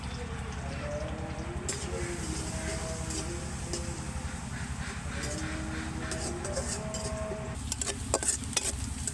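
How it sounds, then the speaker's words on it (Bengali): Chopped onions fry in oil for a chicken potato ball filling, with a continuous soft sizzle over a low steady hum, and a few sharp stirring scrapes come near the end. "এই যে পেঁয়াজটা একটু ভাজা ভাজা করে নেব"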